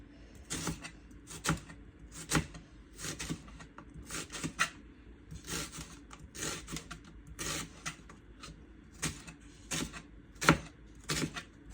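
A knife slices mango thinly, making a long series of crisp, irregular cutting taps, some in quick clusters and others spaced out. The taps are fairly quiet and close, with no talk.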